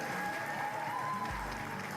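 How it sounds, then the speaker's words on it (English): An audience claps at a youth swine show, a faint, distant, steady patter of applause with a tonal hum underneath. "Put your hands together for these kids."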